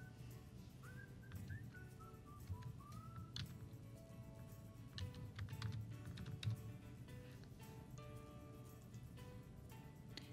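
Computer keyboard typing into a formula search field, a run of quiet, quick key clicks in bursts, with soft whistling tones and faint background noise.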